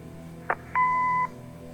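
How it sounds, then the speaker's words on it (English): An answering machine in the video game Kathy Rain gives a short click followed by a single steady electronic beep lasting about half a second, clear and close, with a faint low hum underneath. "Leave a message after the beep."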